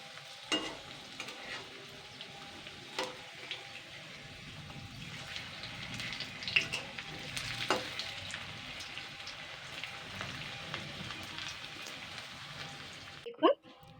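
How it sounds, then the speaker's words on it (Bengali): Atta and potato snacks fry one by one in medium-hot refined oil, a soft, even crackling sizzle with scattered pops and light stirring clicks, and a louder clatter right at the end. "এবার আমি এগুলোকে আমি একটা একটা করে ভেজে নেবো কিন্তু এটা মিডিয়াম তেলেই ভাজতে হবে"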